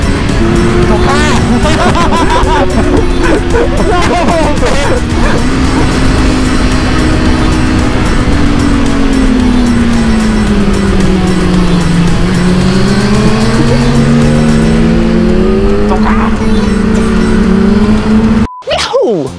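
A 2022 Honda CBR600RR 600cc sport motorcycle being ridden, its engine note droning loud and continuous, pitch rising and falling as it accelerates and eases off, with wind rush throughout.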